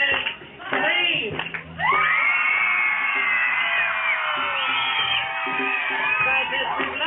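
Festival crowd at Lady Bird Lake yelling a chant back to a band leader, loud mass of voices and whoops sustained for several seconds over live band music.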